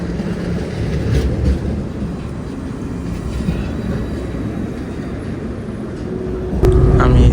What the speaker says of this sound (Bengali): ট্রাম চলে এসেছে।